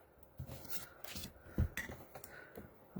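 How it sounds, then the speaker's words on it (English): Scissors snip out a paper mug shape, a few faint close cuts and rustles of paper in an irregular rhythm, quiet and without speech. "I'm going to cut one more mug out"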